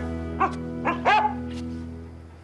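A dog gives three short barks, spaced a moment apart and fairly close, over a steady low background hum.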